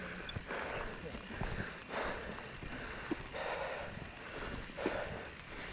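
Horses walking on a trail make faint, irregular hoof clops over steady outdoor background noise, heard at a distance.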